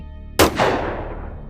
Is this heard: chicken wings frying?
no